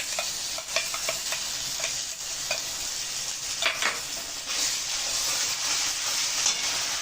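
Ginger garlic paste with ground coriander, cumin and chilli frying in a pan, a bright continuous sizzle with rhythmic spatula stirring and scraping throughout, close and fairly loud, no talking.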